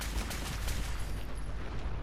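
Rapid bursts of gunfire from Rust Devils raiders in Fallout 4, a dense, continuous crackle of shots that sounds fairly distant and holds steady for the whole two seconds.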